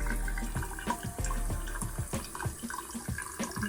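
Water poured out of a clothes steamer's tank, a close, quiet splashing and gurgling stream with uneven pulses, heard alone.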